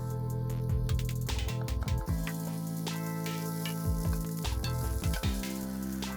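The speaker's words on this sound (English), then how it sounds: "first I'm going to add 2 grated onions and cook till it gets golden brown in color" Grated onions frying in oil in a pan, a steady close sizzle with crackling bursts, heard under background music with a sustained tone and a repeating bass pattern.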